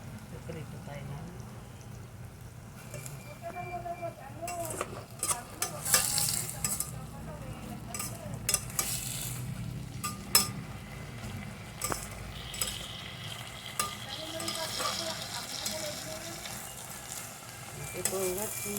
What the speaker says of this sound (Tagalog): Prito tayo na.